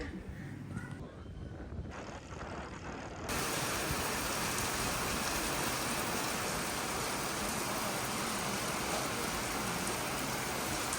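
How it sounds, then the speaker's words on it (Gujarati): Heavy rain pours down in a dense, even roar that starts suddenly after a few seconds of lighter patter and murmured voices. "વરસાદ આવી ગયો ફૂલ."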